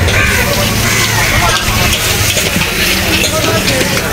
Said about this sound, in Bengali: মনে হচ্ছে যে বিয়ে বাড়ির রান্না চলতেছে